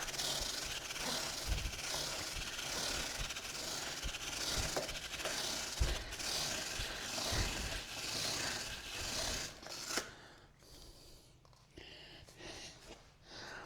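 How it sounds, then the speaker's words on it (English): Aerosol lubricant sprayed onto the chain and rear sprocket of a Suzuki SV650 motorcycle: a steady close hiss running for about ten seconds, then stopping, leaving faint handling noises. "Just going to give it another spray."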